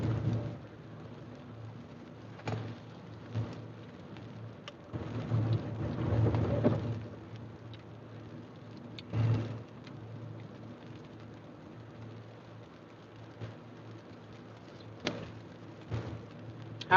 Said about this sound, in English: Child, it's raining and it's nasty and it's cold here.